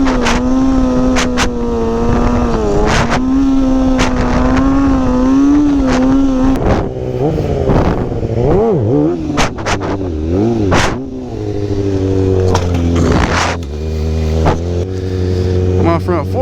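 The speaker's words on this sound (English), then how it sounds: "The bike's real peppy now and I wasn't ready for it." A stunt bike's engine revs and drones, rising and falling through the gears over heavy wind noise, while a rider talks close by over the engine.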